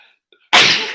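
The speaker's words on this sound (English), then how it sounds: "Then we kind of sneeze it out." A single loud, sharp sneeze bursts out after a quiet moment, with a faint breathy intake just before it.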